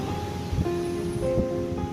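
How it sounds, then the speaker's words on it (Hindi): Ocean surf washing in at high tide on Colva beach in South Goa, a soft, steady broadband wash heard at a distance, with a faint tonal hum running underneath. "ये कोलवा का बीच है, अभी बहुत हाई टाइड है, पानी ऊपर आ गया है।"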